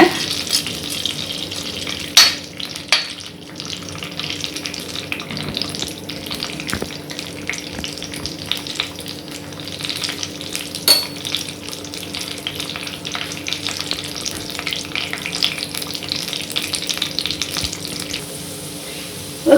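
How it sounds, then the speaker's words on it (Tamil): Mustard seeds and curry leaves fry in hot oil for a South Indian vegetable idli tempering, a steady close sizzle with scattered pops and occasional stirring clinks throughout, no voices. "கடுகு கருவேப்பிலை போட்டதும் அதை பொன் நிறம் போல சிவக்கணுங்க"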